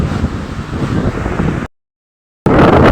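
Strong typhoon wind buffets the microphone in a loud, rough roar, cutting out briefly to silence before gusting back in.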